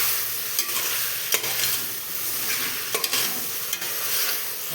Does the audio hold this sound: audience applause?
no